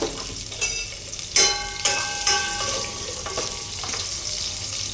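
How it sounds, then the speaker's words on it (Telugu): Onions fry lightly for Guntur-style dalcha, sizzling loudly in hot oil, a constant crackling hiss broken by clinks and scrapes of a spoon stirring the pan. "ఉల్లిపాయలు బాగా ఫ్రై చేసుకోవాలి లైట్గా"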